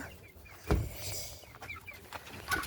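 Chickens and chicks in a coop give soft, faint clucks and a few thin peeps, with one short louder cluck near the start against a quiet background.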